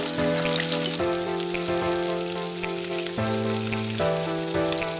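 Chicken sticks kabab frying restaurant style in oil for a Ramadan iftar, giving a steady, close sizzle and crackle throughout, over sustained tonal background music that shifts pitch every second or so.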